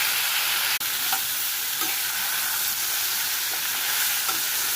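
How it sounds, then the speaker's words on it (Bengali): Marinated raw banana pieces fry in oil in a pan on high heat, a loud, continuous hiss with faint scrapes as they are turned now and then, and no voices. "তারপর এটা একটা হাই হিটে কিছুক্ষণ এটাকে ভাজতে হবে এদিক ওদিক করে"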